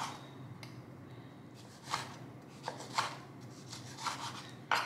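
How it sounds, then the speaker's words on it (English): Four unpeeled tomatoes are chopped with a knife on a cutting board, several distinct soft cuts and thumps spaced irregularly over a quiet kitchen background, with no talking. "And we're going to chop 4 tomatoes."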